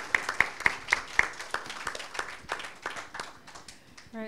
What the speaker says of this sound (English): Please give a loud applause to our distinguished speakers for sharing knowledge